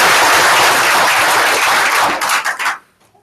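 An audience gives a loud, dense round of applause that lasts about two and a half seconds, then thins into a few scattered claps and stops.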